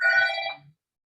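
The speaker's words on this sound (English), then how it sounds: "Oh, someone's phone's ringing." A telephone ringtone chimes once during a university question-and-answer session, a bright electronic trill lasting under a second before cutting to silence.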